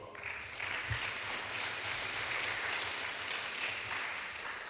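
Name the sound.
audience applause for a panel speaker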